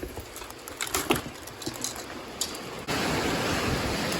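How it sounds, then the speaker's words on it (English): Heavy rain falls outdoors, a patter of drops with scattered louder hits, then swells into a dense, steady broadband roar for the final second and a half. "It's raining way too hard to continue."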